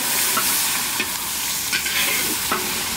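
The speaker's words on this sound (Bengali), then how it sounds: "মশলা কষানো চলছে" Onions, bay leaf, whole cumin and spices sauté in oil left from frying eggs for a village-style egg curry, giving a continuous crackling sizzle broken by a few scraping stirs close by.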